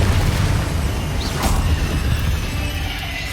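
A Confringo spell explodes in the Hogwarts Legacy game as a dense, loud rumbling blast with a brief crackling burst partway through, set over continuous heavy low noise.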